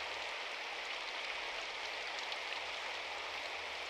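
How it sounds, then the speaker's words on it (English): Steady rain of big, heavy drops falling outside an entryway in the visual novel game Symphonic Rain, a dense continuous hiss that holds even and fairly close throughout with no voices. "It wasn't the usual light drizzle, but rather big drops of water I could see with my eyes."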